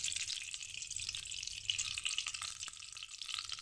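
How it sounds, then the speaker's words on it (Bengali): Oil poured into a hot wok sizzles as a soft, steady hiss that stays faint and even. No one speaks over it. "এবার কড়াইতে আমি একটু তেল ঢেলে দিলাম"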